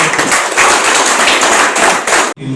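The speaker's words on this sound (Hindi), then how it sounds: "आप जोरदार तालियां बजाएंगे" An audience at a large brainstorming program claps hard, dense continuous applause that stays loud throughout and then cuts off abruptly near the end.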